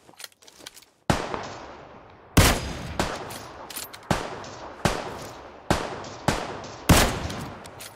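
Gunfire in the battle game PUBG Lite: several sharp, loud shots and short bursts in quick succession, each trailing off with a ringing decay, after a brief quiet stretch at the start.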